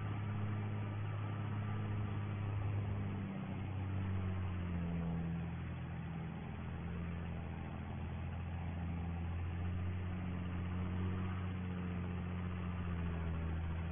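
A farm tractor engine runs steadily at a low, droning pitch, close and continuous. The rumble dips and shifts slightly in tone partway through, with no talking over it.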